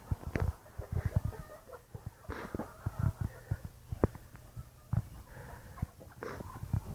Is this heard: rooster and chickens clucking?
yes